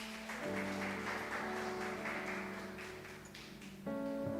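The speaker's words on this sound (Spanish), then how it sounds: "denle un fuerte aplauso al Señor y colóquese de pie" A church congregation claps in a sustained burst of applause lasting several seconds, with organ or keyboard chords ringing underneath and swelling near the end.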